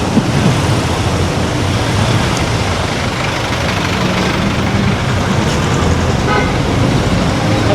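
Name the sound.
jeep and traffic with horn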